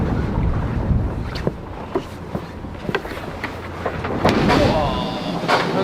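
Racing sailboat in The Ocean Race pushing upwind in a strong breeze on the Atlantic, with constant wind and water rush, irregular thumps and splashes as the hull bounces, and voices on board.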